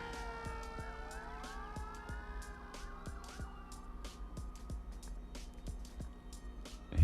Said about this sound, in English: Here we have an ambulance.